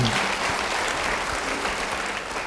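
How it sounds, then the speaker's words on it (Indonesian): A congregation at a church sermon breaks into sustained applause, a dense wash of many hands clapping steadily and evenly, moderately loud and uninterrupted throughout. "Beri tepuk tangan."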